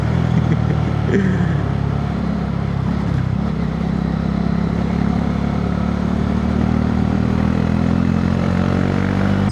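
Motorcycle engine droning steadily and loudly throughout while riding through a mountain ghat road on the way to Trimbakeshwar, with wind rumble blending into the engine hum.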